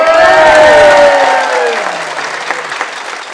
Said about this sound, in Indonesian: Juga terima kasih tepuk tangan juga untuk para kameramen dan kru